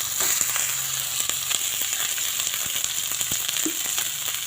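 Leftover cooked rice frying in a hot pan, a steady bright sizzle with scattered crackles and pops, close and continuous with no voices.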